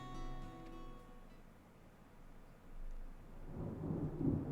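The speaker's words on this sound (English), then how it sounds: "And that sound. Thunder snow is coming." Thunder in the video game Deadly Premonition 2, a low distant rumble that swells and fades, then builds into a louder rolling crack toward the end, with no voices.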